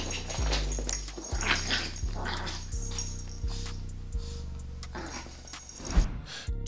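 A Yorkie puppy gives soft whimpers and a few short yips, small and close, over a quiet background with occasional thumps.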